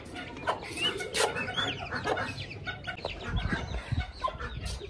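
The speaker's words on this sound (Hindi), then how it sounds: "हमारी जो मुर्गी है ना वो कभी ऊपर आ रही है कभी नीचे जा रही है" A hen clucks repeatedly close by, short throaty clucks and murmurs in an irregular rhythm over a busy farmyard background, with other chickens faintly audible and no talk.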